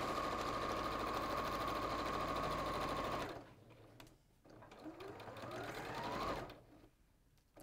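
A sewing machine stitching an appliqué cushion hums steadily at a fast rate, then stops and restarts more unevenly with a rising whine before a final halt; faint background talk is present.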